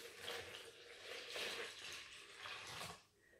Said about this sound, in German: Dazu kommt dann das Wasser.